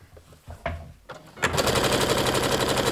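A sewing machine stitches steadily forward on a Christmas gnome, its needle beating in a fast, even mechanical rhythm after a few soft handling knocks.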